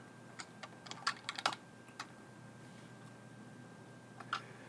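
Typing on a computer keyboard, a quiet, close cluster of light key clicks in an uneven burst, then a couple of isolated taps.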